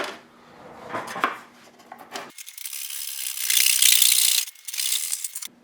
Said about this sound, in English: Now we're going to start cutting.